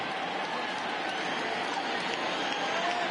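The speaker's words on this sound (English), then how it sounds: "Crowd gets up for the 3-2." A crowd at a baseball stadium, Cubs at Pirates, rises into a steady, dense roar and cheer for a 3-2 count in the eighth inning, holding level throughout with no break.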